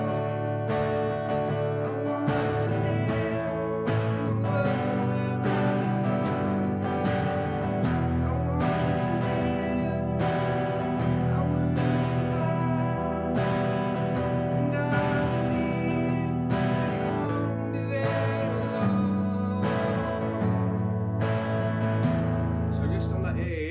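Acoustic guitar strums a steady progression of chords with a regular rhythm, full and close, continuing for over twenty seconds.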